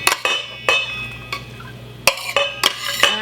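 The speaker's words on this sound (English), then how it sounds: "I'm gonna bring my meat back over here and I'm gonna dump it into my bowl" Cooked sausage meat tipped from a pan into a bowl for low carb sausage balls, heard as a series of sharp clinks and scrapes of metal utensil on cookware, several distinct knocks spaced irregularly over a quiet kitchen background.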